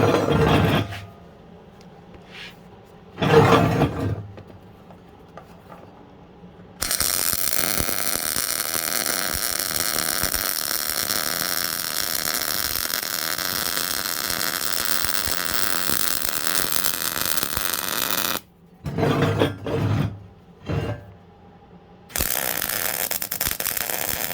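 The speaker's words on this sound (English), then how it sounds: "I'll just weld up all my inside corners so I really don't have that much weld that's on the outside" MIG welding of inside corners using regular 030 solid core wire: a steady, loud crackling hiss holds for long stretches, broken by short pauses with a few clanks and knocks between the welds.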